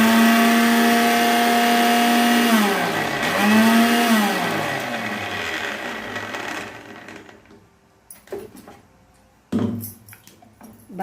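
An electric kitchen mixer grinder runs at home, grinding garlic cloves for a spicy garlic chutney powder. Its loud, steady motor whine dips in pitch twice, then winds down into quiet, followed by a few sharp knocks and clatters.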